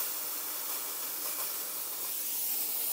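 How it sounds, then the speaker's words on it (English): Dry steam hissing steadily from a budget Harbor Freight steam cleaner sprayed onto a kitchen countertop, a close, continuous broadband hiss with no talk. "I'm just gonna spray it onto my countertop so you guys can see how dry the steam is"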